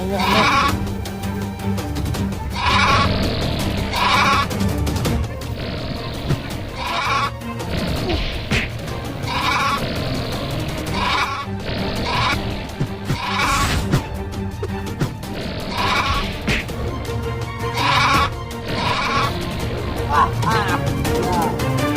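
Sheep bleat repeatedly and loudly up close, a crowd of overlapping nasal cries recurring every couple of seconds over a constant noisy rural background, with voices talking throughout.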